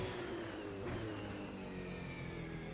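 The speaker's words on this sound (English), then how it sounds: "we're going to have to check the engine of this car because it is sounding really, really awful" A badly running V8 Supercar engine in a racing video game at Winton, droning steadily and loudly for the whole stretch with a harsh, rough mid-range tone and slight pitch wavering.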